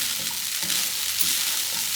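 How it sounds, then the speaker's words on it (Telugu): Soaked poha being stirred together with other ingredients in a pan for upma, giving a steady close hiss with soft, repeated scraping strokes. "మనం వేసిన ఐటమ్స్ అన్నీ ఈ అటుకుల దానిలోకి రావాలి కాబట్టి చక్కగా మొత్తం కలిసేలా కలుపుకుందాం"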